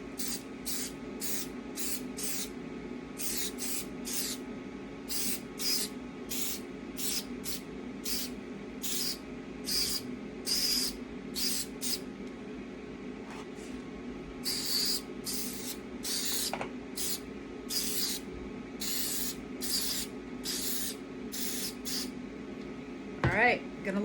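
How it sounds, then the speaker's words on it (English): Spray paint applied to a wooden board, a series of short sharp hissing bursts in quick rhythmic succession, close and loud, with a low steady hum underneath. "Okay, you can go ahead and spray"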